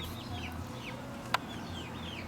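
Pet chickens cluck softly nearby in a backyard setting, with a few scattered rising calls over a steady low background and one sharp brief click midway.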